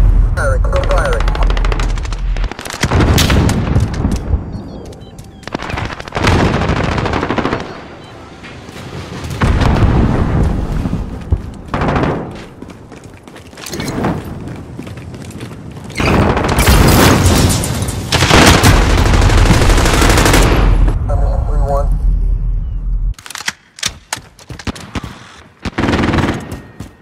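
Heavy automatic gunfire from Call of Duty: Modern Warfare online play, loud, continuous bursts and booms with sentry gun fire, broken by brief pauses, with game voice callouts mixed in.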